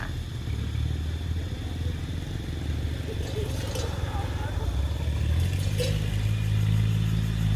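Cars and motorbikes pass along a road, a continuous mid-distance engine rumble and whoosh that builds slightly toward the end, with someone talking over it.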